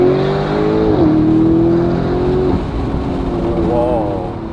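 McLaren 600LT sports car on Southern California streets, its engine pulling hard with a rising harmonic whine that drops at shifts, loud and close with roar and downshift blips, under occasional talk.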